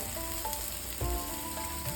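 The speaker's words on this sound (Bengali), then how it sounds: "দেখুন পেঁয়াজ বা অন্যান্য সবজিটা ভাজা হয়ে গেছে, হালকা করে আমি ভেজেছি" Onions and other vegetables fry lightly in a pan for red sauce pasta, making a short, even sizzle close by with a faint clink partway through.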